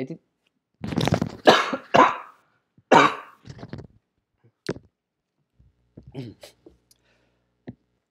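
Several bursts of coughing from a single person at close range during a coding tutorial, loud broadband fits clustered early, then fainter scattered coughs and throat sounds trailing off.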